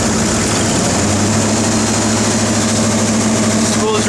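A 1993 Ford 460 EFI V8 idles roughly, a loud, close, steady low rumble with a slightly uneven beat that holds constant throughout.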